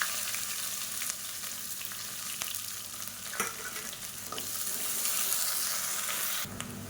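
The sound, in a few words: onion and whole spices frying in oil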